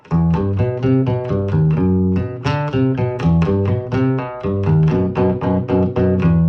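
A Fender Kingman acoustic bass guitar plays a steady run of plucked notes with a dull, muffled P-bass-like tone, alone and fairly loud, without voices.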